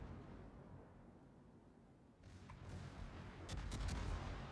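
Incoming AP shell salvo from a battleship in the World of Warships game, a low rumbling boom building into a burst of sharp cracking impacts near the end, over a quiet background hum.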